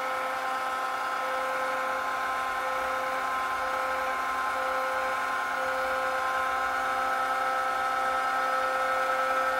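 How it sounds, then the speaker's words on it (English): An Option-O Lagom 01 coffee grinder runs steadily at an espresso setting, giving a continuous, even whine with a constant tone throughout and no voices. "I'm just gonna run the grinder and turn it."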